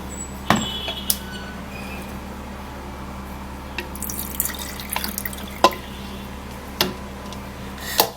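Squeezed orange, watermelon and cucumber juice is poured into a container, with a low steady trickle broken by scattered drips and splashes close by.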